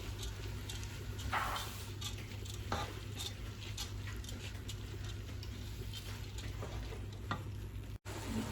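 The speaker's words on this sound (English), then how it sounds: "We're gonna dump it all in and fry the rice with the onions." Faint, steady sizzling of rice and onions frying in a pan, with occasional scraping stirs over a low background hum.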